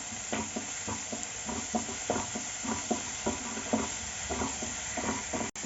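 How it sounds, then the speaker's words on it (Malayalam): Ginger paste, onion and garlic frying in a pan while being stirred, a steady close sizzle broken by regular scraping strokes of a spoon, with a short clink near the end. "ഇനി നമുക്കിതിലേക്ക് കുറച്ച് ജിഞ്ചർ പേസ്റ്റ് ഇട്ട് കൊടുക്കാം"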